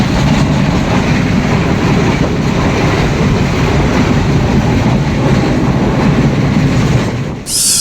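A Sri Lankan train heading to Colombo rumbles loudly and continuously along the tracks, a dense roar with wheel clatter from inside or close by, easing at the very end.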